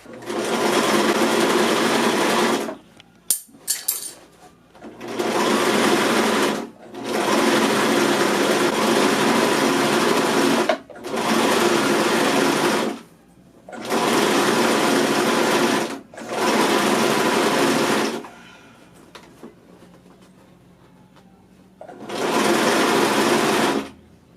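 A sewing machine stitches fabric in six or seven loud, steady bursts of whirring, each a few seconds long, separated by short quiet pauses while the cloth is repositioned.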